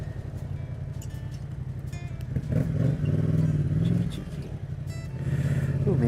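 A Yamaha Tracer 700 motorcycle pulls away in third gear at night, with the engine note swelling and rising in two surges over a constant rumble of road and wind noise.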